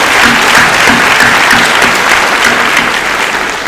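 Audience at a 2019 high school graduation ceremony gives a loud round of applause, many hands clapping in a dense, continuous roar that tapers slightly at the end, with no speech over it.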